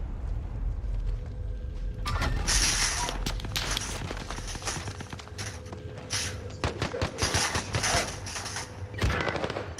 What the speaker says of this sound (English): Oh, got shot with a shotgun.